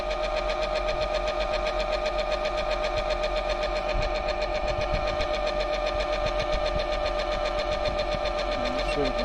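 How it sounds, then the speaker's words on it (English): A stepper motor driven as a 240-volt generator and labouring under load, with a fan running off it, gives a steady mechanical whine and hum with a buzzy rattling texture, continuous and close. "You can hear the pull on that motor"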